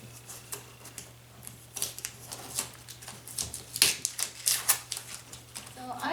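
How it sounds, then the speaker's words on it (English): Painter's tape is peeled off painted upholstery in a series of short, close crackling tears and pulls, scattered and irregular over a low steady hum. "I'm going to take the tape off now"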